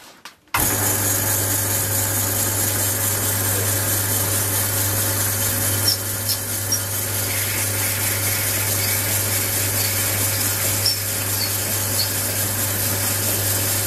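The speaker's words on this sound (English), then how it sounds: "So this is a 7mm drill, and the drill matches the brass tubes that you glue into the wood." A lathe starts up and then runs with a steady hum and whine as a 7mm drill bores into spinning wood for a slimline pen, continuous and close, with no talking.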